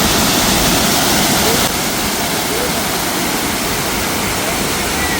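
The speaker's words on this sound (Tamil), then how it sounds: "இது மூணார் போகிற வழியிலே ஒரு அருவி இருந்தது" Roadside waterfall on the way to Munnar, Kerala, a loud, close, constant roar of falling water with no break, filling the whole clip.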